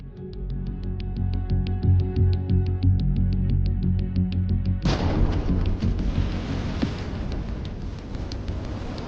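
A drone-dropped anti-tank grenade explodes inside a Russian tank. A steady rhythmic drone-like pulsing is cut off by a loud, deep, rumbling blast, and heavy roaring noise carries on afterward with no voices.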